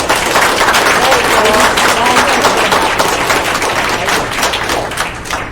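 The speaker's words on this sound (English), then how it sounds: "Let's give them one more round of applause." Audience at a county board of education meeting gives a loud, sustained round of applause, dense and steady, fading slightly at the end with some voices underneath.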